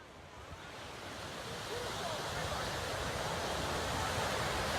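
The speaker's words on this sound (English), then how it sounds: "Next, we arrived to Sunset Beach for a quick splash." Ocean surf at Sunset Beach, Hawaii, rolls in as a steady, wide wash of breaking waves, rising slightly in loudness, with a faint breeze and no clear talk.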